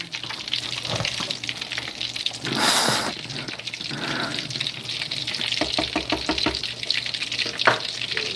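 Food sizzles and fries in a pan during home cooking, a steady crackling hiss with occasional louder spatters and a few stirring clatters, close and fairly loud throughout.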